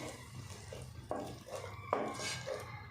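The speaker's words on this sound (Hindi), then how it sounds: "अब हम इसमें टमाटर डाल देते हैं।" Chopped tomatoes go into a pan of garlic fried for a few minutes, giving a few soft clatters and stirring knocks of utensil against cookware, fairly quiet, with no one talking.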